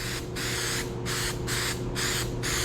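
Mass airflow sensor cleaner aerosol hisses in several short bursts onto a Nissan R32 Skyline's sensor, about five in a row, close up over a low steady hum.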